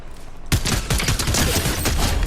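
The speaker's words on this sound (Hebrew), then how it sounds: "מישהו ירה עליי מהצד" Video game gunfire erupts suddenly after a brief quiet moment into a loud, dense volley of rapid shots that keeps going to the end.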